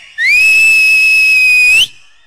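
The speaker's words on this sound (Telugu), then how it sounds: "విజిల్ చేయండి అందరూ" A single shrill, sustained whistle at a beach festival concert sounds loud and close, holding one steady pitch for under two seconds before cutting off sharply.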